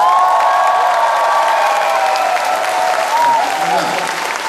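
Audience at a community club orchestra concert in Seongnam claps steadily throughout, a dense sustained round of applause with some crowd noise mixed in.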